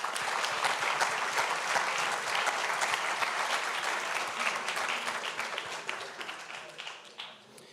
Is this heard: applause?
yes